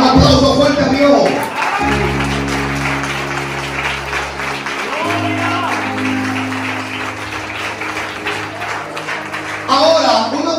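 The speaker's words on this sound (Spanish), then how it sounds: "Pero un aplauso fuerte a Dios." Church congregation at a Spanish-language prophetic service applauding together, a loud sustained wash of clapping mixed with crowd noise and held organ or keyboard tones underneath.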